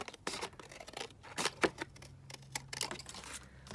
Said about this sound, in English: So I'm just going to cut this down